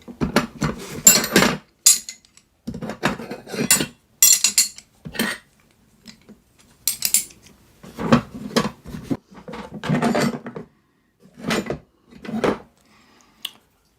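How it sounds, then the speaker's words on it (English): Metal wrenches from a toolbox clink and clatter as they are picked up and set down, sharp bursts of handling separated by brief pauses, close and fairly loud. "I'm going to show you a variation of what are called wrenches."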